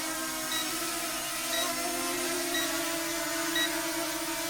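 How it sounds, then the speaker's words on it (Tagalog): A ZLL SG107S brushless beginner drone switched into headless mode gives four short, evenly spaced beeps about a second apart over the steady whine of its motors. "magbe-beep siya"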